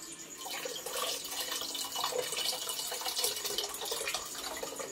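Water pours and splashes continuously onto soaked tamarind in a container at close range, a steady bright trickling rush with no talking.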